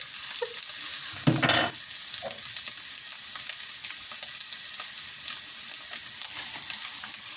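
Bacon, mushrooms and an egg mixture fry in a knob of butter in a pan, giving a steady close sizzle with one brief louder scrape of stirring near the start.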